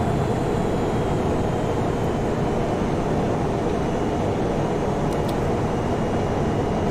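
Steady jet engine roar inside a flight simulator game during an approach as thrust is reduced, a continuous broadband rumble with a faint hiss on top, loud and unbroken throughout.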